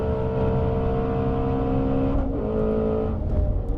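A 2019 Ford Mustang Shelby GT350 engine roars loud and close in a steady high-rev drone, with a slight dip and recovery in pitch toward the end.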